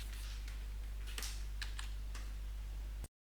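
Computer keyboard keys are pressed during an ESXi 9 installation, giving a few sparse, sharp clicks at uneven intervals over a steady low hum. The clicks are close and fairly quiet, and no one speaks.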